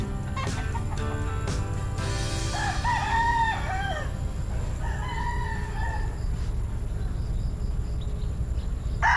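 Roosters at a poultry farm crow around 6 am, one long clear cock-a-doodle-doo rising over a steady outdoor background of insects and rustle, with a second fainter crow following.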